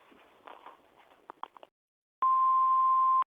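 An answering machine's long steady electronic beep rings out loud and clean for about a second after some brief clicks and faint sounds from the phone line, then cuts off.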